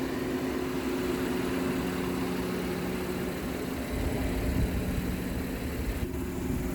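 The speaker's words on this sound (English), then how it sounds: "Your typical loud Honda cooling fan." A 2022 Honda Pilot Special Edition AWD sits with its engine running while its loud cooling fan whirs steadily, a constant near hum with a low tonal drone and no talking.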